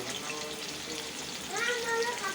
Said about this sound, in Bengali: আলুটা কেটে আগে একটুখানি তেলে ভেজে নিচ্ছি